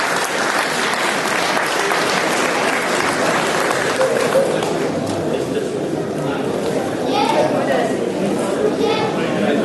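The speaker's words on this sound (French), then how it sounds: "On peut les applaudir, ce sont les trois gagnants" An audience applauds the three prize winners at a comic-book festival awards ceremony, a full, continuous round of clapping mixed with crowd chatter, staying loud and steady for the whole stretch.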